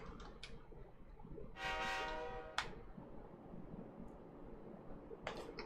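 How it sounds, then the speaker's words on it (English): A passenger train in the Persona 3 Portable city gives a loud horn blast around the middle, with rumbling rail noise underneath and short tonal chimes at the start and end. "Inside the new city passenger train."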